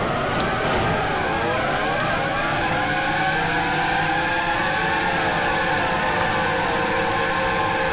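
Formula One Grand Prix cars in a racing video game launch off the start line of a 2005-season race, a loud continuous blend of high revving engines with pitch sweeps and overlapping whines throughout.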